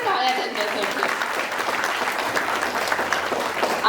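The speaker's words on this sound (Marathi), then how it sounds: "जोरदार टाळ्या त्यांच्यासाठी." Sustained audience applause fills a public session hall, loud and dense throughout, with a few voices faintly mixed in under the clapping.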